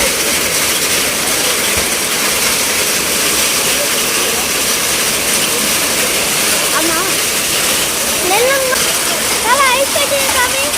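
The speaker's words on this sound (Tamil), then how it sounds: "இப்போ பாருங்க ஐஸ் கட்டி மழை வருது" A hailstorm pours down in Bangalore, a loud, dense, continuous roar of ice and rain hitting surfaces nearby, with voices talking faintly underneath toward the end.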